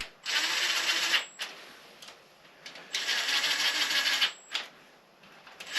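A power tool drives bolts into a Triumph Daytona 955i motorcycle. Two long, loud whirring runs alternate with short bursts and brief pauses, heard up close.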